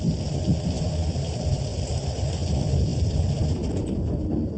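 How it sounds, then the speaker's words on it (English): Heavy rain pours over an airport during a thunderstorm, a dense, steady roar with a deep rumbling low end that holds without a break for the whole stretch. "Right now we have heavy rain on the airport."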